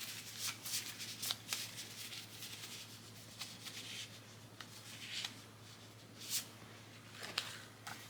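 Playing cards are handled close up, with a run of crisp riffling and flicking snaps spaced irregularly over a quiet room hum, soft overall and no voices.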